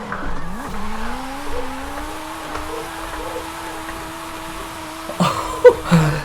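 A turbocharged drift-build car in the Forza Horizon 5 racing game holds a rising engine whine through a slide, ending in sharp tire squeals and skid bursts near the close, with no talking.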